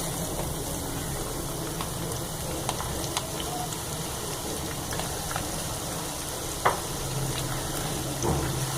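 Sliced onions frying with lightly browned garlic in a pan for a dhaba-style mixed vegetable sabzi: a steady, close sizzle with scattered pops and crackles throughout.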